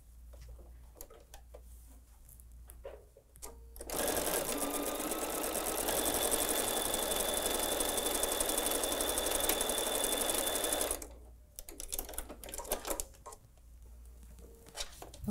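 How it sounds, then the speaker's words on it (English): A sewing machine stitches a channel in a fabric cooling neck wrap, a steady fast mechanical whir running unbroken for about seven seconds, framed by softer handling clicks and rustles before and after. "But let me sew the next compartment."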